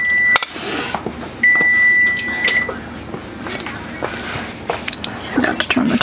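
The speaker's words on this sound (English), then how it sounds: "forgot to turn the timer off" A kitchen timer beeps in steady bursts, one near the start and a longer run after, over background kitchen noise and a voice talking while someone bakes a honey bun cake.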